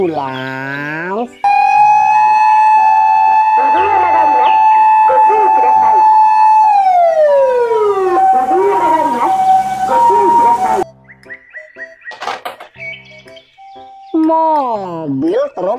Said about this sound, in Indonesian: Mobil, ambulans.